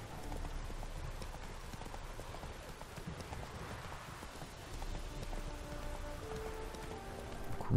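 Horse hooves clip-clop steadily in the open world of The Witcher 3 while riding at an easy, unhurried pace, a continuous rhythmic gait with a soft ambient wash behind it.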